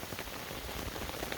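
Steady rain patters on a tarp in an outdoor camp, a dense continuous hiss of drops close overhead with no voices.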